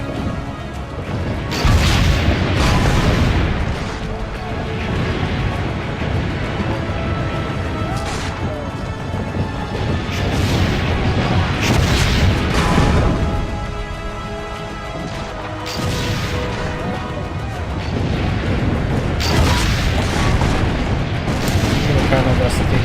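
Cannon fire in the video game Assassin's Creed Brotherhood, a dense run of heavy booms and crashes mixed with battle noise and shouting voices, loud and continuous throughout.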